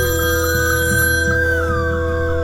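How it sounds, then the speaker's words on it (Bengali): A late-night phone rings in a sustained electronic tone with a faint wavering pulse, steady and fairly loud, with nobody talking. "ঠিক সেই সময় ফোনটা বেজে উঠল"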